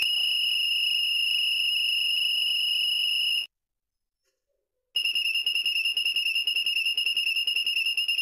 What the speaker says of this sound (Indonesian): Dan yang ketiga, bunyi peluit.